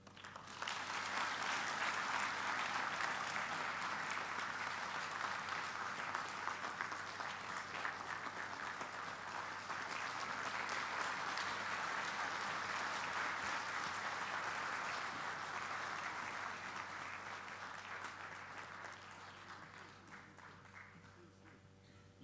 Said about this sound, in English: let's continue to applaud